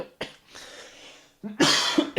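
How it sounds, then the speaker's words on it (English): A person coughs in a few short harsh bursts, close and fairly loud, separated by brief quiet breaths. "sorry, I'm just so embarrassed that I started coughing"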